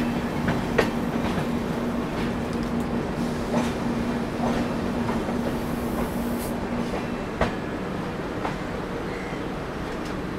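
The Bhubaneswar Tejas Rajdhani Express passes close alongside on an adjacent track, a continuous rumbling rush with repeated clickety-clack wheel strikes, a steady tonal hum and occasional sharp clanks.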